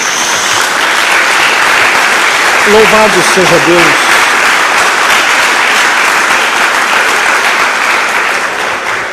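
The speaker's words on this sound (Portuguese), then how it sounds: "dê uma salva de palmas a Jesus" A church congregation applauds loudly and continuously, a dense wall of clapping. A voice briefly calls out over it in the middle.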